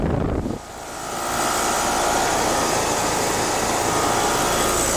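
A 2006 Rheem Classic 4-ton, 13 SEER R22 air conditioner condenser runs its two-bladed fan, giving a loud, steady broadband whoosh with a low hum underneath, close by and alone.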